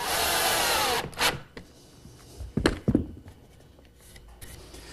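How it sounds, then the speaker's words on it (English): A power drill drives bronze screws into wooden chaise lounge parts, with a loud steady whir for about a second followed by a few short bursts and knocks, close by with no talking. "we'll secure these pieces together with some bronze screws"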